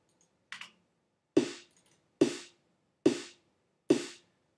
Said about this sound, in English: look at the second snare track that plays along with this, which comes from Ultrabeat, and this is what it sounds like